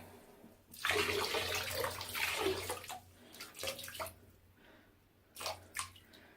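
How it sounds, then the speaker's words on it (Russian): White wine pours out of a bottle in a few splashy bursts, quiet and close, with gaps between pours. "Далее берем белое вино, выливаем, но не полностью."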